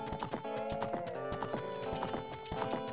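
Hooves clip-clop in quick, regular beats as the horse Epona trots in Ocarina of Time, sharp and close over a tonal game music bed, with no voices.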